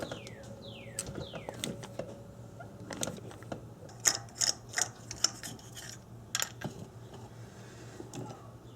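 A socket wrench backs a spark plug out of a Subaru Outback engine with faint, sparse clicks and small metallic scrapes. The irregular ticks are quiet and close, and there is no talking.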